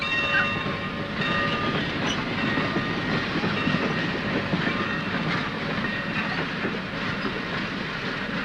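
A train runs along its rails with a steady, loud rumble and rhythmic clatter of the cars, filling the whole stretch without pause in a 1951 Western setting.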